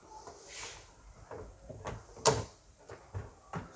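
A six-drawer plastic deep freezer gives off a series of soft thuds and scrapes as drawers slide open and shut, with one sharper knock in the middle, all fairly quiet and close.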